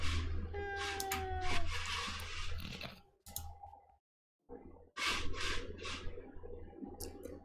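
A cat sound effect plays, with drawn-out meow-like wails and rising and falling tones, followed by a short silence and more bursts of noise.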